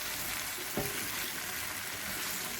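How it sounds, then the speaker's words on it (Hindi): Okra and potato bhujia roasts in a pan over a low flame, giving a steady, dense sizzle that runs without a break, with one faint knock of a spoon near the start. "इसको इसी तरह से हमने भूनना है हल्की आंच पर।"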